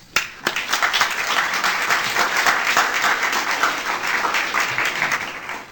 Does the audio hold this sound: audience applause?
yes